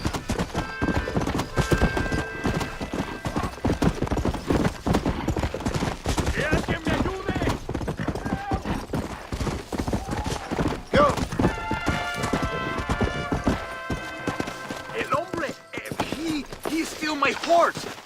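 Rapid galloping hoofbeats pound continuously and loudly in the video game Red Dead Redemption on Xbox 360, with a horse whinnying and brief voices over the rush of movement.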